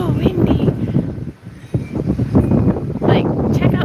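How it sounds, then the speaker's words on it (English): Heavy, gusty wind buffets the microphone with low rumbling bursts, nearly continuous with a brief lull, as a person talks underneath. "It's so windy."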